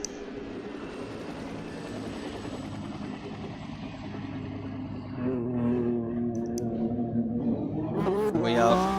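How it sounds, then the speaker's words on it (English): Race cars circle the Le Mans track in a racing game during endurance-series LMP1 qualifying, a steady droning engine hum that swells louder in the second half and rises sharply near the end. "We have cars out on track."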